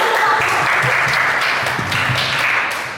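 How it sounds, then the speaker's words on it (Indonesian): Audience applause at a student public speaking presentation, a sustained wash of many hands clapping at a fairly loud, even level, fading slightly at the end, with faint voices underneath. "tepuk tangan dulu dong buat kita semua."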